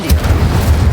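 A fire spell cast in a Harry Potter video game erupts as a loud, low booming burst that rumbles on for a second, with no talking.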